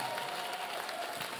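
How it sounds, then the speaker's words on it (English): A church congregation at a Sunday service claps together in a steady wash of applause that lasts the whole short moment. The clapping sounds fairly distant and even, with a faint crowd murmur underneath. "Whoa, clap for them."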